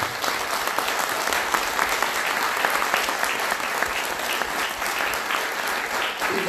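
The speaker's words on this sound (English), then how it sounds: "I hope that all of you will give a huge round of applause to these candidates who are volunteering their time." Sustained round of applause from a community audience at a candidate forum for election candidates, dense and even clapping that carries on without a break for several seconds.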